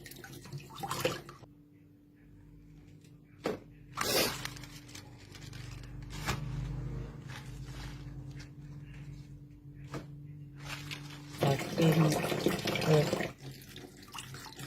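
Tap water runs in bursts while vegetable leaves are washed one by one at a sink, with cupboard-like knocks and a louder gush near the end; no speech over it.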